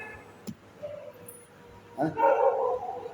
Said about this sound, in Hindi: ये कुत्ता पकड़ रहे हैं